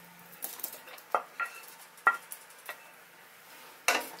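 Chicken pieces going into butter chicken gravy in a pan, heard as a few sharp clinks and knocks of utensil against metal with soft stirring between, fairly quiet and close, no talk.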